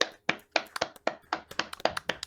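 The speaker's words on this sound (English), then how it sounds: "Claps for Sal. Everyone clap for Sal." Several people clap for a podcast guest in a brief, uneven burst of close hand claps, about a dozen sharp slaps in quick succession.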